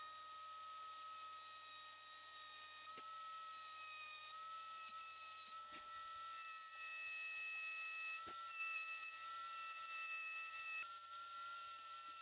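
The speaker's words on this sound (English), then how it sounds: "what I'm gonna do next is just drill out the hole for the lead, just so we can weigh this bait down." A small drill bores a hole for a lead weight in a mini jointed crankbait fishing lure, a faint, steady high-pitched whine running throughout with slight pitch shifts and a few soft clicks.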